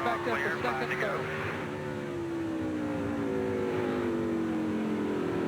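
NASCAR stock cars race at the 2003 Virginia 500, a loud, sustained engine drone with a steady high whine that slowly drops in pitch as the pack passes, under crowd noise and broadcast commentary.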